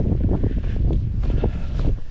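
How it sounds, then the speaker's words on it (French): Steady, strong wind buffeting the microphone on a mountain trail in the Massif de la Sainte-Baume in late January, a continuous low roar with gusty swells and no voices. "il y a un peu de vent, il y a du vent"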